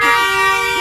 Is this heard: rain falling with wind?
no